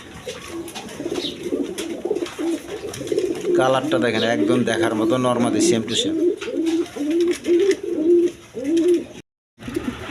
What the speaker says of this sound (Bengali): এটা হলো টিউলিপ কবিতর টিউলিপ